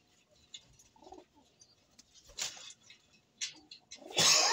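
A grizzle pigeon gives soft, low coos in short separate bursts, close by and fairly quiet, with faint rustles and brief clicks between calls and no one speaking.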